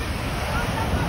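Beach ambience at a crowded Pensacola shore on Memorial Day weekend: a continuous wash of surf and wind buffeting the microphone, steady and fairly loud for a brief moment.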